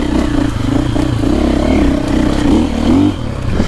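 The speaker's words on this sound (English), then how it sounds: "I'm in second gear, just kind of feathering the clutch a little." A KTM or Husqvarna four-stroke dirt bike pulls in second gear with the clutch feathered. The engine drones loud and close, its pitch wavering up and down for nearly four seconds.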